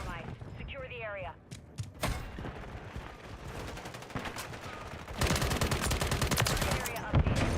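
Gunfire in Call of Duty on Rebirth Island: bursts of automatic weapon fire and single cracks, growing into sustained rapid shooting, mixed with game voice callouts and mechanical clanks.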